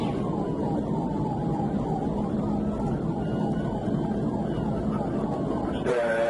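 A police siren wails continuously with a sliding, wavering pitch during a highway pursuit, loud and steady over constant road noise, ending in a brief clatter.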